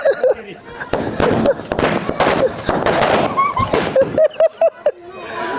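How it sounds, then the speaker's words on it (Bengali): Firecrackers set off before the opening of a newly built house burst in loud, irregular pops and crackles, mixed with people talking and shouting nearby. "আর আছে, আর আছে, আর ফুটবে।"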